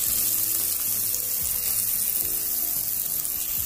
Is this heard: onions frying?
yes